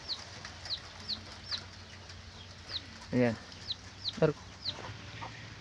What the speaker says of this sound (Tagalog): At yung alagang manok natin eto, nandito.